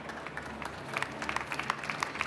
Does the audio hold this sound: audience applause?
yes